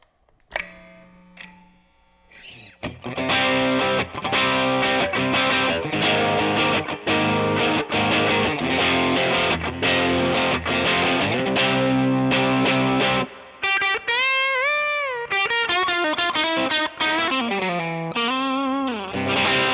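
A distorted PRS Custom 22 Soapbar electric guitar plays chugging, rhythmic chords, loud and close, then switches to bending lead notes with a brighter, wavering tone; no voices.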